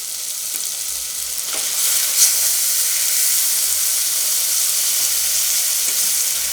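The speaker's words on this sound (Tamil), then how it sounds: "நம்ம அலசி வச்சுருக்க சிக்கனையும் சேர்த்துக்கிறோம்" Washed chicken pieces for a Tamil chicken kulambu sizzle steadily in a hot pan, a loud, even hiss with faint stirring scrapes and no talking.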